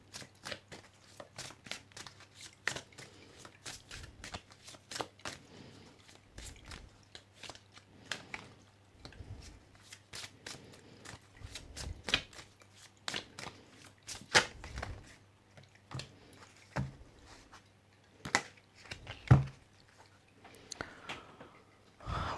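A tarot card deck, an autumn equinox deck, is shuffled up close, giving a long run of soft, quick card riffles and flicks with sharper snaps scattered throughout in a quiet room.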